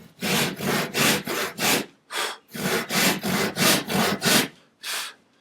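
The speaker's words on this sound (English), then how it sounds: "draws of the saw. Slowly and gently." A hand saw cuts through wood in steady back-and-forth strokes, about a dozen rasping draws with brief pauses, close and clear with no talking.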